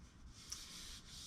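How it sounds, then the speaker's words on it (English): Steady, soft abrasive rubbing, a continuous hiss of sandpaper working over a thin walnut and resin bowl with slight swells, close by and without talk. "There's a bit more sanding to do still."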